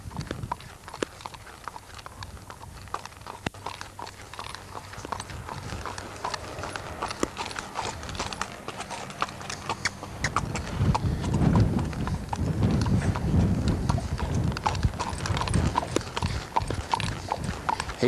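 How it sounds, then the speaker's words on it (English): A horse's hooves clop in a slow, steady trot, continuous and fairly close, growing a bit louder partway through, with faint rustling around them. "Get a little trotting, slow trotting if we can."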